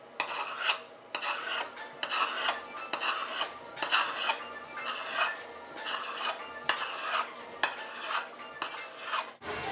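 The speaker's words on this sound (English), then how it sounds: "cut it into thin or thick slices, depending on how you like it" A knife cuts patted dough into thick noodles for khaub piaj on a board, making a steady series of soft, close chopping and scraping strokes at a regular rhythm with faint utensil clinks.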